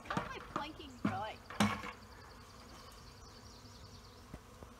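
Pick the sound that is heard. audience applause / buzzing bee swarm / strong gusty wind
buzzing bee swarm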